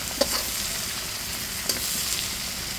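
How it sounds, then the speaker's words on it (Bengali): Fish frying in a pan, sizzling steadily and close, with a couple of sharp clacks as pieces are flipped over in the hot oil. "দেখুন বন্ধুরা, মাছগুলো একটু উল্টে দিচ্ছি।"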